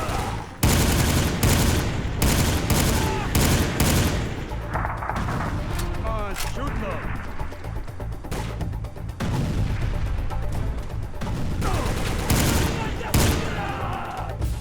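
Dense, loud gunfire and booming explosions in the video game Soldier of Fortune: Payback, with rapid bursts and heavy blasts churning almost continuously and a voice talking faintly underneath.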